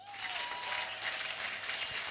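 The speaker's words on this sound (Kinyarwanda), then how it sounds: "Komera Imana amashyi." A church congregation applauding in praise of God, a dense, steady wash of many hands clapping close by for the whole stretch, with only faint voices underneath.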